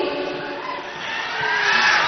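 A crowd at an outdoor Dhimsa folk dance welcome for a deputy chief minister cheers and shouts together, a dense, continuous roar of voices. It swells slightly toward the end.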